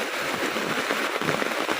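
Heavy rain pours down in a steady, dense hiss that fills the whole clip without pause, with no clear voices over it.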